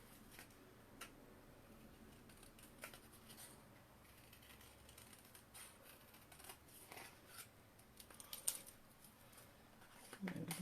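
Scissors snip through designer series paper for a handmade card, with quiet, irregular clicking cuts close by that grow a little busier toward the end, and no speech.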